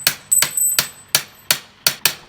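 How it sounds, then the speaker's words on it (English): Metal crowbar hammered down a bicycle stem to drive out a star nut on a Talaria Sting R electric motorbike build, eight sharp, ringing metallic strikes in a steady rhythm, close and loud with no talk. "Get a big old crowbar, go in there, and you just hammer that sucker."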